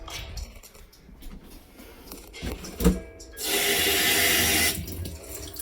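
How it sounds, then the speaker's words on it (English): A tap in an artist's studio runs briefly, with a steady rush of water for just over a second, preceded by a few soft clunks and handling sounds in a quiet room. "running water,"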